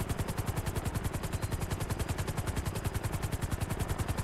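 Helicopter rotor thudding steadily in GTA 5, a fast, even chopping pulse that stays loud and continuous throughout with no pauses.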